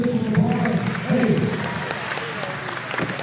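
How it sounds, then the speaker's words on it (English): Crowd at a Southside Rumble wrestling event at the Rock Athletic Center clapping and cheering, a steady moderately loud applause with voices mixed in and a person talking over it. "Put your hands together now as a signature applause"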